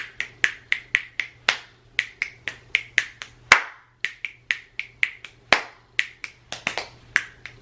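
A fifth-grade music class snaps fingers as body percussion: crisp, close snaps in a steady, quick rhythm, with a few sharper claps mixed in and no talking.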